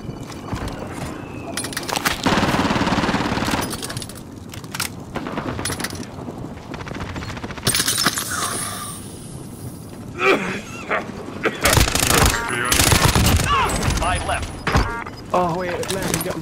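Gunfire crackles in Call of Duty: Modern Warfare as sharp bursts and rattling volleys break out amid a dense game soundscape, with players talking over much of the action.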